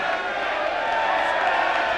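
A crowd cheers and murmurs at a 2001 rugby match between Swansea and Pontypridd, forming a dense, steady roar of many distant voices without distinct claps.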